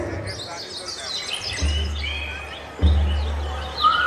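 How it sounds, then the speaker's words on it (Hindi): Many birds chirp and tweet busily all at once, a lively chorus in the sky over a low rumbling background at an outdoor Ramleela festival in Mukesh Nagar, Shahdara. "चिड़ियों की चहचहाट"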